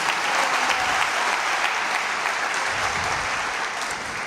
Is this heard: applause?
yes